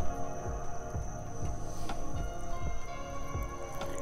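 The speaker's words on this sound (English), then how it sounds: "we do have water coming out" Water dripping from an air conditioner drain outdoors, a slow irregular series of soft drips against a faint steady hum.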